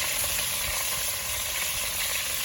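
Chicken frying in a pot, a steady loud hiss and crackle of hot oil that holds constant throughout with no pauses.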